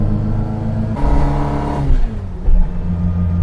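Small engine of a Reliant Fox revving up from a steady idle, rising sharply then dropping back twice, loud and close with no talking.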